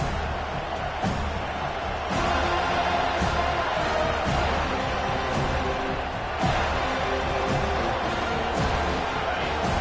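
A stadium crowd roars steadily at a college football game with the Seminoles, a dense wash of cheering that swells slightly after a couple of seconds and keeps a loud, even level throughout.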